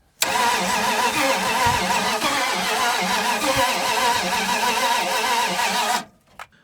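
A 1980 Dodge Power Wagon engine that sat unused for 20 years cranks and catches, then runs loud and steady for about six seconds before cutting off abruptly, close to the listener.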